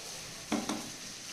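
Marinated chicken drops into a hot pan with two quick sizzling bursts, a short crackle over a quiet kitchen background.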